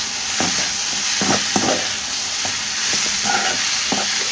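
Cabbage curry frying in a pan as it is stirred, a steady close sizzle under repeated scraping strokes of the spoon, with no voices.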